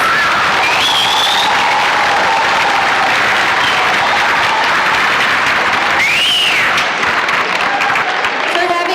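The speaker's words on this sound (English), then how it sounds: "Can we give another round of applause to the 6th graders, please?" Steady, dense applause from an audience at a school strings day, honoring sixth-grade string players who just started in September, filling the whole stretch with brief whistles or cheers rising above the clapping.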